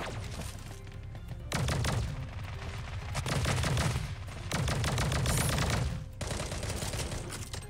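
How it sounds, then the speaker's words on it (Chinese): Automatic gunfire from the battle royale game Sausage Man, with loud, dense bursts of rapid shots in several long volleys separated by brief pauses. "居然射了那么多发都没有把他射死。"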